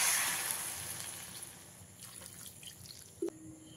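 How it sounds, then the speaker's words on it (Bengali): Water poured into a pan of pumpkin greens curry, a brief soft splashing pour that fades into faint dripping and trickling, with a small clink near the end. "দিয়ে দিচ্ছি জল।"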